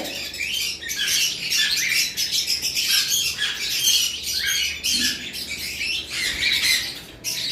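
Cockatiels in a breeding aviary call continuously, a dense wash of harsh squawks and chirps overlapping at close range with no pause.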